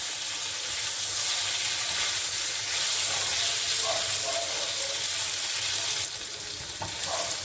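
Paneer pieces lightly frying in a pan, giving a steady close sizzle and hiss throughout, with faint clinks of stirring now and then.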